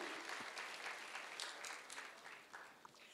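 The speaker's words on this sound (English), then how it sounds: "Can we give her a round of applause?" Audience applause at an interior design competition and awards ceremony, a broad wash of clapping from a crowd, steady and fairly distant, swelling slightly then tapering near the end.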